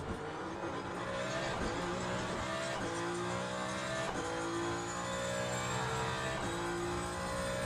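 A Ferrari 499P hypercar in the Le Mans Ultimate racing game screams through repeated upshifts, its engine pitch climbing and dropping in steady cycles, loud and continuous throughout.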